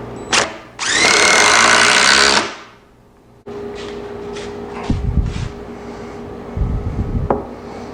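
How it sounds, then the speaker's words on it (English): A power drill drives lag bolts into the end of a wooden deck bar table frame, starting with a loud sustained whir, then a lower grinding drive with thumps as the bolt seats. "I'm putting these lag bolts into the end of the end frame."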